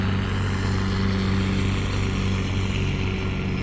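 A boat engine drones loud and steady, revving long into a curve, with a deep throbbing hum and rushing noise, nearby and continuous, with no voices.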